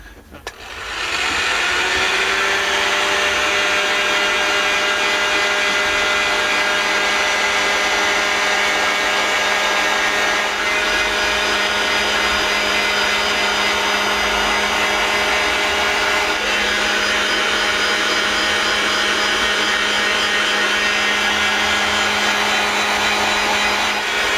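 A heat gun meant for stripping wallpaper, run on its lowest setting to melt wax into a pomander, whirs loudly and steadily after a brief start-up, an unbroken blowing hum throughout.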